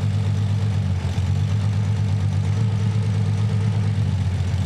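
Z32 Nissan 300ZX six-cylinder engine idling with one cylinder disabled, a steady close low rumble with a slightly uneven pulse throughout.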